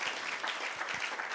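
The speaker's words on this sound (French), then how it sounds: "On l'applaudit bien fort, s'il vous plaît" An audience applauds a volunteer at a public-speaking talk, with steady, dense clapping filling the short stretch at an even, moderate level from a crowd.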